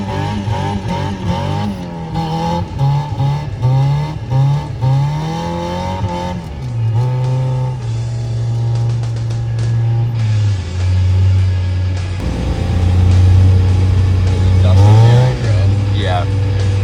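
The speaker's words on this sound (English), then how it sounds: "This is about 7 inches of powder ripping through the Miata." A Mazda Miata ploughs through about seven inches of fresh powder snow, its engine droning loud and close, pitch climbing and dropping with repeated revs and gear changes over a steady rumble.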